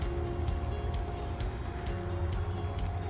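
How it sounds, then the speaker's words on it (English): Road traffic passes along ASP3 in Allegany State Park, New York, heard from a bicycle as a continuous low rumble and wash of noise, moderately loud, with no talking. "You can hear the traffic going by on ASP3."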